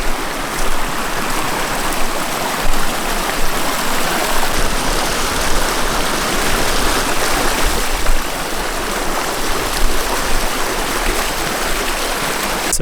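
Deep Appalachian Trail river crossing being waded, with loud, steady rushing and splashing water filling the whole stretch and no talk.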